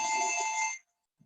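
Electronic telephone ring in a broadcast studio setting, a single loud trilling burst lasting under a second that cuts off abruptly, followed by a faint thump.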